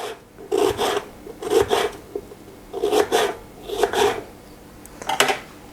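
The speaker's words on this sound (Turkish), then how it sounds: "soğanlarımı şimdi doğruyorum soğanı" Onion being sliced into sauté-size pieces with a knife on a board for a Turkish wild asparagus sauté, heard as five separate rasping bursts of cutting strokes spaced about a second apart.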